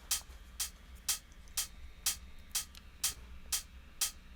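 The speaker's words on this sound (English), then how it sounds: "This 909. This is panned left and is about" Roland 909-style hi-hats layered with an open hi-hat in a tech house drum pattern, nine crisp, evenly spaced hiss-like hits at a steady tempo, fairly soft over low background noise.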